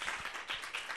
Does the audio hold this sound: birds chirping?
no